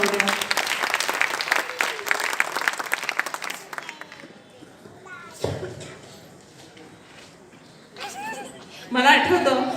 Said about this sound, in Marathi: तर पुन्हा एकदा जोरदार टाळ्या होऊन जाऊ द्या.